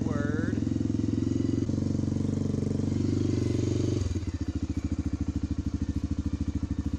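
A Suzuki DR350 motorcycle engine idles nearby with a steady, rapid thumping putter that drops into a lower, more uneven chug partway through.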